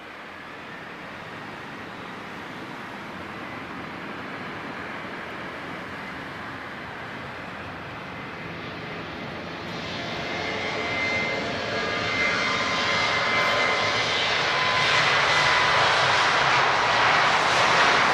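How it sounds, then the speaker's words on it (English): A Malta Air Boeing 737-800 at Lisbon Airport roars with jet engine noise, a loud steady broadband rush heard from close by that swells noticeably louder about halfway through. "there's a much louder engine sound from here"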